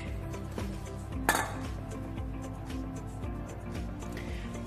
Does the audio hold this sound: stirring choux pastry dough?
yes